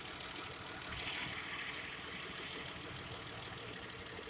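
A car engine idles steadily with one fuel injector unplugged while chasing a misfire, a continuous close mechanical rumble with a faint rhythmic ticking and slight roughness in its pulse throughout.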